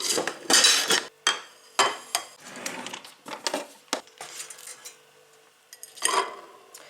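Metal tongs clinking and scraping against a toaster while crumpets are made in a home kitchen, a series of sharp close clatters and taps with brief pauses between them.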